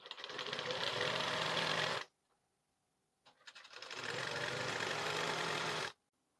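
Sewing machine stitching blouse double piping, running in two sustained, close bursts of rapid mechanical whirring separated by a short pause.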